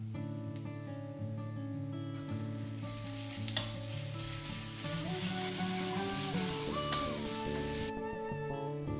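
Onion paste fries over medium heat in a pan. A soft, steady sizzle runs under background music, broken by a couple of sharp clinks.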